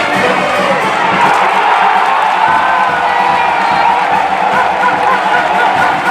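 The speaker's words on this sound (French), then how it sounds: "But applaudi par la poignée de spectateurs admise au stade." A small crowd of spectators at a Clermont Foot football match cheers and shouts after a goal, a steady roar of mixed voices that holds for several seconds.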